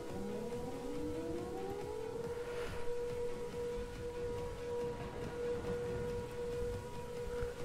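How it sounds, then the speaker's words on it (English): Tornado sirens wail in a Minecraft weather-mod game, rising and falling in long sweeping tones over a low steady rumble, faint and distant. "You hear the sirens!"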